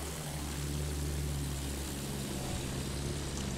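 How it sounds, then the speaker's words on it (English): Several propeller warplanes drone overhead in the World War I shooter Battlefield 1, a steady, loud, unbroken engine roar with a low throbbing hum. "We have 1, 2, 3 planes."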